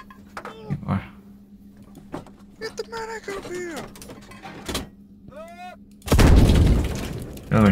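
Explosion and gunfire in a tank video game with a Challenger 2 main battle tank: scattered sharp bangs and mechanical clanks under voices, ending in a loud, broad explosive blast near the end.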